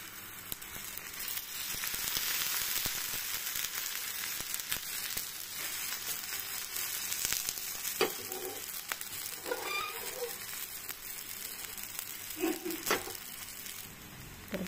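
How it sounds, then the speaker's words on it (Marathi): A methi paratha fries in oil on a hot tawa, giving a soft, steady sizzle close by, with occasional brief scrapes and taps as it is turned. "बघा अशा प्रकारे आपला पराठा भाजून घ्यायचा आहे"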